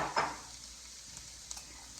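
A soft, steady sizzle of carrots, onion, garlic and frozen peas frying in a pan, with a brief stirring scrape at the start and a few faint clicks.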